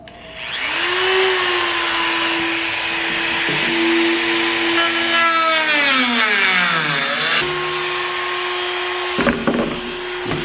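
A vacuum cleaner sucks up debris from a Jeep JL bumper trim, running loud and close with a steady whine that sags in pitch as the airflow is choked, then recovers, with a few knocks near the end.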